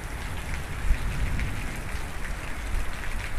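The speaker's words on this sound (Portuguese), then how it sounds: "Olha, gente, a chuva. Tá chovendo pra valer," Heavy rain falling steadily at a zoo in Guarulhos, São Paulo, a dense continuous hiss of drops on surfaces, close and fairly loud with no talking.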